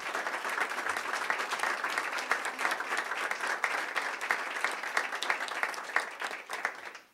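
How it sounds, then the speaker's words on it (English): Audience applause for visiting students at a school board meeting, a steady dense clapping that holds for about seven seconds before fading out at the end. "So if we could give them a round of applause and thank them for coming."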